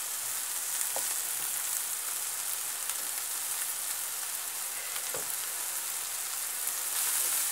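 Garlic cloves hit a hot pan while cooking a Moroccan msemen filling, giving a steady, even sizzle that holds for several seconds with no voices over it.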